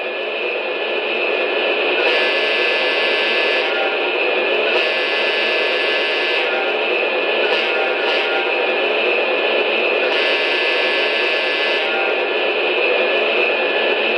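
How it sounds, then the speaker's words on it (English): A loud, steady electronic horn from an MTH Union Pacific Veranda turbine model train set blares continuously over a constant engine roar, its upper tones swelling in a few long blasts, harsh and close. "let's give a listen to the horn."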